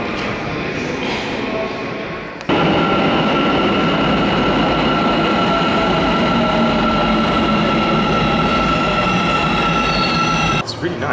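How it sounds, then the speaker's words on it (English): A Soviet-style metro train in Almaty, Kazakhstan arrives with a sudden loud roar of rolling wheels and high squeals, the din sustained for several seconds before cutting off. "This really seems to be like a Soviet metro."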